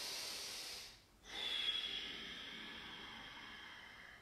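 Slow, close breathing during a floor yoga stretch for cyclists, with one leg flexed on the floor: a long soft exhale, a brief pause, then another drawn-out breath fading away, quiet and without speech.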